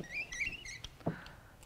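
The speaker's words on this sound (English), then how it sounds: "I have a squeaky brayer." A squeaky brayer rolls over a print being mounted to a panel, giving several high thin squeaks in quick succession followed by a soft rolling thump, close and fairly quiet.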